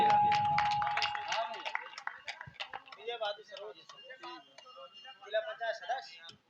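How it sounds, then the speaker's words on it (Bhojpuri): An audience applauding to welcome a district panchayat member at a stage event in a market: scattered, fairly faint clapping patters on and off over several seconds, with a voice talking over the start. "स्वागत में जोरदार ताली बजा दें।"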